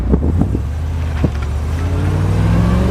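A 1975 Chevrolet Corvette with an L48 V8 accelerating, a loud close engine drone whose pitch climbs steadily as it gains speed, with rumbling low-end exhaust and some wind buffeting.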